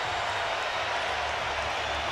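A boxing crowd of about 20,000 at Staples Center during a welterweight championship fight, a steady roar of cheering and applause heard from a distance, fairly faint.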